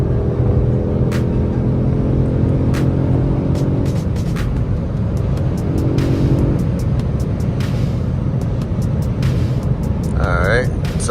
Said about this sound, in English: This has a 4-cylinder engine, but this does not sound bad at all though.